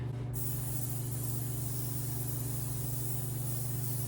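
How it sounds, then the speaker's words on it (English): A steady aerosol hiss of BioSilk Natural Hold Finishing Spray hairspray, continuous and close, with a low hum underneath throughout. "BioSilk Natural Hold Finishing Spray."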